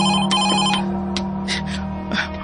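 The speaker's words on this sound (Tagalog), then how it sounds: "Ayay, bibagting ang telepono." A telephone rings in a hacienda office, repeated bright bell trills at moderate volume over a steady low hum, with short sharp bursts spaced through the clip.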